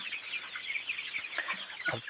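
Tiger breed chickens clucking in a busy flock, several birds chattering close by with a few sharper, higher calls near the end.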